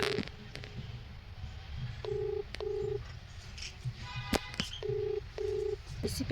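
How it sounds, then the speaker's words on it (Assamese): Ringback tone from a call placed on a mobile phone, heard as two pairs of steady electronic tone bursts with a pause between them, over low background noise and faint room sounds. "ৰিং কৰি আছোঁ দেউতাৰ মোবাইলেদি ফোন কৰি আছোঁ"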